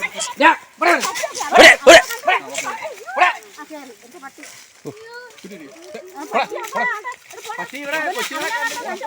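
A dog barks several times in short bursts near a rural spot where a cobra is being caught, mixed with shouting voices of people and children talking over it.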